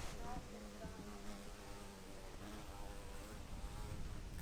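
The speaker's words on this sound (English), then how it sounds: "Oh my god, that is a prehistoric bee, whatever that is." A large bee buzzes continuously at close range in a forest garden in Shawnee National Forest, Illinois, a deep steady drone that wavers slightly in pitch, with no talking.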